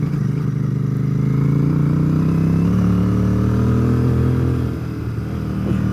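A Royal Enfield Bear 650 motorcycle climbing a steep, corrugated dirt pass, its engine droning steadily and loudly at a constant throttle, with wind buffeting throughout and a brief dip in pitch near the end.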